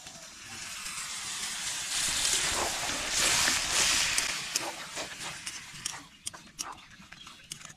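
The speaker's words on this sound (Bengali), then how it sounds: "তো পরিমাণ মতো জল ঢেলে দিব" Water poured into a pan of fried mutton, village-style cooking, sets off a loud, hissing sizzle that builds for several seconds, then breaks into sharper crackles, spits and clinks as it settles.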